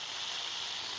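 Mustard seeds, cumin and curry leaves hit hot oil with a dense, steady hiss of sizzling, close and continuous for about a second.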